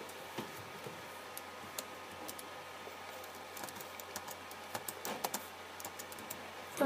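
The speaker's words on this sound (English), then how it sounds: "Do the typing." Someone types on a computer keyboard nearby, a quiet, irregular run of soft key clicks at a moderate pace with a few sharper taps and a louder burst at the end, no speech.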